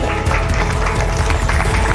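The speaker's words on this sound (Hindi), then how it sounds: "वहां पे भी हाउस नंबर फर्स्ट छोटा तालियां इनके लिए।" Quiz competition audience at a school clapping and cheering for a winning house team, a dense, loud, steady wash of applause with crowd noise throughout.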